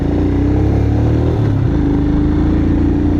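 A motorcycle ridden on a mountain road in Arunachal Pradesh, its engine a loud, close, steady drone with a brief shift in pitch midway, no voices heard.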